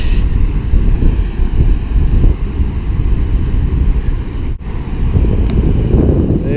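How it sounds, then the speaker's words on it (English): Strong wind buffets the microphone on a coastal sand dune, a loud, continuous roaring rush with only a brief dip partway through and no talk. "a little bit windier on this side of the dune."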